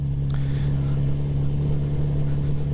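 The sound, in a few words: Kawasaki Z900 RS motorcycle riding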